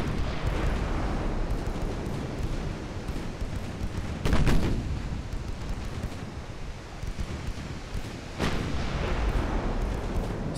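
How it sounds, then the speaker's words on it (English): Seven-inch naval guns firing in a navy-building game: heavy booming blasts, with two sharp loud reports standing out over a constant rumbling, wind-like roar, no voices. "Seven-inch guns should be able to do some penetrations as well and damage him."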